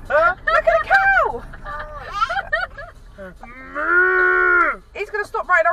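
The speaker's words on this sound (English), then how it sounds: "Oh, there's a cow! Look at a cow!" A cow moos repeatedly near a road, heard from inside a car. The loud, drawn-out calls are mixed with excited human voices, including one long, sustained low moo in the middle.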